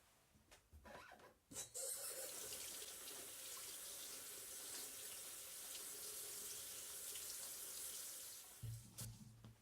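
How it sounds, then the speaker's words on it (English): Water from a sink tap runs steadily over an old Navy knife being rinsed after rust removal, a loud continuous splashing stream, with brief handling knocks at the start and end. "Take and rinse this off in the sink here."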